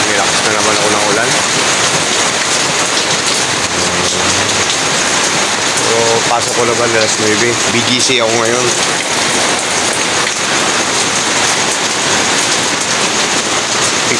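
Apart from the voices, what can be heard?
heavy rain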